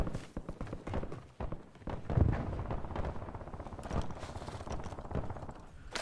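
Gunfire in the video game Call of Duty Warzone, a run of rapid muffled shots and bursts mixed with game noise, moderately loud and fairly close.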